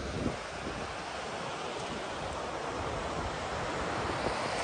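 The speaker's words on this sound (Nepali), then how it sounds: "यस्तो दामी हावा चलेछ यार" A strong wind blows beside the Lohore river in Dailekh, Nepal, making a constant roaring rush with wind buffeting the microphone, steady and fairly loud, with no talking.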